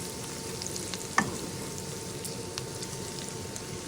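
Spice paste frying in a pan, a continuous close hiss and sizzle with an occasional faint clink, at an even moderate level, no speech.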